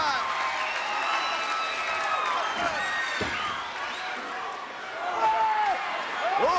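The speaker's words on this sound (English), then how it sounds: "And this capacity crowd coming alive." A capacity crowd at a 1986 WWF wrestling event cheers and roars in a large arena, rising and falling in waves while an excited commentator talks over it.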